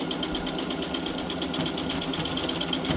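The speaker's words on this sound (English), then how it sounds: "I'm just sewing along the bottom" A sewing machine stitches along the bottom of fabric with elastic secured on both sides, running as a steady rapid whirring hum from start to finish.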